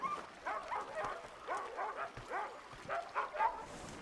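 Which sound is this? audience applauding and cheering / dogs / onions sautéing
dogs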